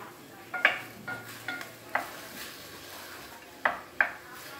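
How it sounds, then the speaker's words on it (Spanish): Tomatoes frying in a pot on a hot grill are stirred, giving a few sharp scraping and clinking spoon strokes over a soft, steady sizzle. "Le vamos a estar dando vueltas así para que se hacen un poquito los tomates"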